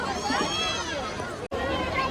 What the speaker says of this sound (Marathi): आज पूर्ण गर्दी आहे आणि पूर्ण जत्रा भरलेली बघा